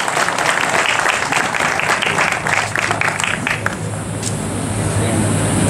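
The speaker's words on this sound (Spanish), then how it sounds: "Un fuerte aplauso para el futuro presidente de la República del Paraguay" A large crowd applauds loudly for Lino César Oviedo, hailed as future president of Paraguay, at a political event inaugurating a party headquarters; dense, steady clapping fills the space and begins to thin toward the end.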